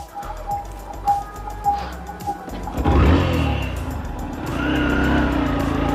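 A motorcycle with a weak battery is kicked or cranked on a cold, foggy early morning at a petrol pump: a few irregular turnover thumps, then the engine catches and settles into a loud, steady, close idle that swells as it is revved.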